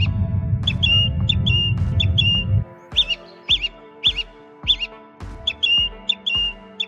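Birdsong captured through a BirdMic: repeated short chirps and tweets in clear rhythmic bursts, close and distinct, at first over a low rumbling background that drops away partway, leaving the calls standing alone.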